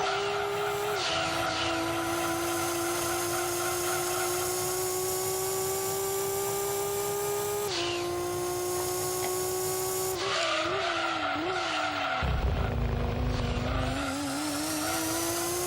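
Gran Turismo 2 turbo race car engine whining steadily at high revs, shifting pitch with gear changes, then tires squeal and skid loudly near the end amid rumbling game sound.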